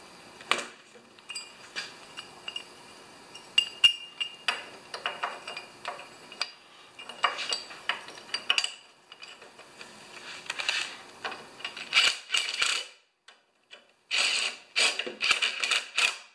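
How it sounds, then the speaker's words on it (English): Metal tools clink and tick as a muffler is fitted onto a Tecumseh lawn mower engine with a 7/16 wrench: scattered close clinks, ratchet-like ticks and handling noises in short bursts, with no talking. "Muffler. 7/16. Let's get this muffler on here."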